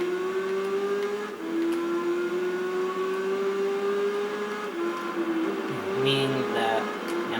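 Motorcycle engines in a Tourist Trophy video game race, with bikes such as an FCR 400, GPZ 400R and TZR 250 droning loudly and continuously. The engines hold a steady high pitch, shift gears now and then, and rev near the end.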